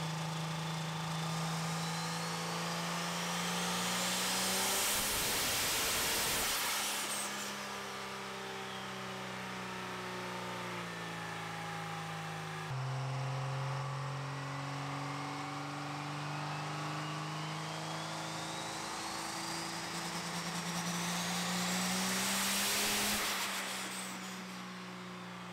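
Cummins diesel truck engine tuned around 1500 horsepower with 200 psi boost on a dyno, roaring through two long loud pulls that climb in pitch with a rising turbo whine, then drop back toward idle between runs.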